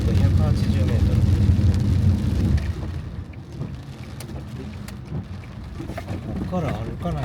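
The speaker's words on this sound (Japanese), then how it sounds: "うわ、すごい雨降ってきた。" Heavy rain pours onto a moving car on a mountain road near Matsunoyama hot spring in Niigata, a dense steady roar over engine rumble, loudest at first and then easing slightly.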